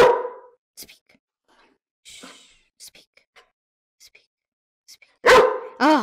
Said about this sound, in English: Wait, we didn't get any barks yet.